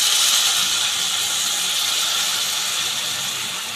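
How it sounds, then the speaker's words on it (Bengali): Boiled water is poured into a pot of gobindobhog rice and katla fish head for muri ghonto, producing a loud, steady, close rushing hiss that fades slightly at the end. "তো এবার দেবো ফুটিয়ে রাখা জলটা।"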